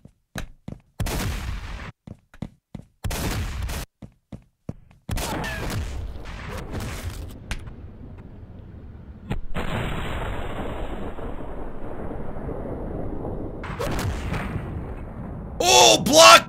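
Gunfire in the indie game Delay, bursts of sharp shots and crashing impacts separated by brief gaps, then a sustained rumble of game noise, with someone talking over parts of it.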